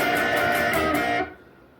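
Electric guitar ringing out a chord-based solo riff from a punk song, sustained and bright, then cut off abruptly near the end, leaving a fading tail.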